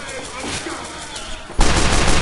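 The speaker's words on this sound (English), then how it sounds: "Guys, I love wasting my pistol ammo." Pistol gunfire in Team Fortress 2, a burst of game shots starting loud and then turning into a dense, harsh wash of noise in the last second.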